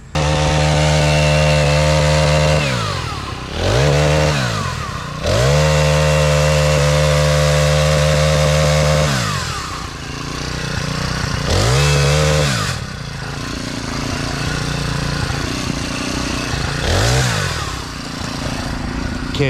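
A little 18-inch four-stroke chainsaw cuts wood up close and loud, holding long high-revving cuts that drop away to idle between passes, then rising again in shorter bursts, with no talking.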